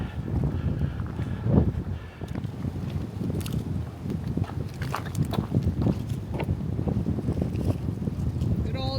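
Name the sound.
wind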